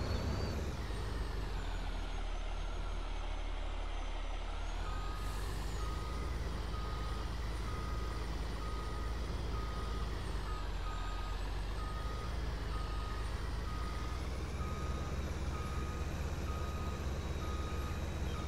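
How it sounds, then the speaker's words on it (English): Reversing beeps from a truck and trailer backing up in Farming Simulator 22, a steady repeating tone over a constant engine drone, loud and continuous throughout with no talk. "I'm going to try and reverse it and get out of here"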